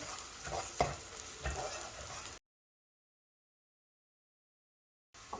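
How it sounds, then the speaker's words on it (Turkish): Minced meat with pepper paste sizzles and fries in a pan while being stirred with scraping strokes, then the sound drops out to silence before briefly returning. "yine o kadar biber salçası ilave edip biraz da böyle kavuruyorum"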